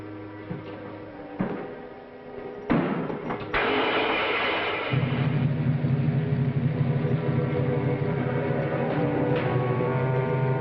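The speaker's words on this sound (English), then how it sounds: "Start the motor." An old car motor in a 1940s thriller scene turns over after a few clunks and settles into a steady, loud idling rumble that continues unbroken to the end, close by with no speech.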